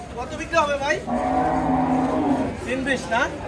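A cow moos loudly and close at a busy Qurbani cattle market in Hozrotpur, one long sustained low call framed by shorter rising vocal sounds before and after.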